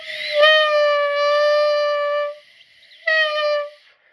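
A clarinet mouthpiece blown with slow air gives a thin, wavering squeal held for about two seconds, then a second shorter burst after a pause.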